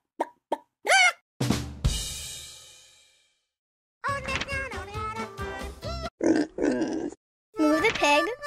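Cartoonish pig grunts and oinks in short bursts alongside a game-like sound effect and a cheerful voice speaking, from a Sesame Street children's app game.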